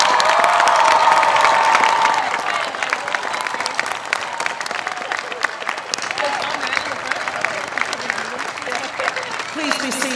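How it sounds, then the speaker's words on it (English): A college commencement audience applauds the faculty, with sustained dense clapping from a large crowd and scattered cheers, loud and continuous for the full stretch. "join me in applauding the faculty of Whittier College"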